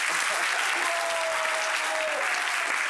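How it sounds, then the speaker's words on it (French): Steady applause from a talk-show audience in Abobo, Côte d'Ivoire, a dense wash of clapping that fills the whole stretch without pause. "Applaudissements pour vous-même également."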